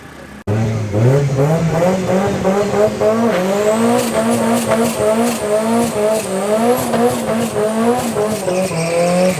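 BMW X3M drag racing at Midvaal Raceway, a loud near engine roaring hard through rapid rising gear changes over about nine seconds, with tyre squeal and a second car's drone underneath.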